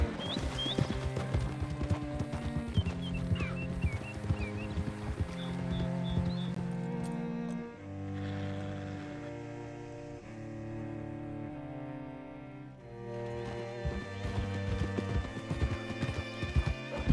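Video game horse hooves clip-clopping in a quick, steady rhythm alongside music, the footfalls fading out midway and returning toward the end.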